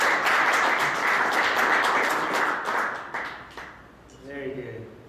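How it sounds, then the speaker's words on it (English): Audience at a CleveSec security meetup claps for first-time attendees, a dense loud burst of applause that fades after about three seconds into quieter murmuring and a voice near the end. "Round of applause for our first timers."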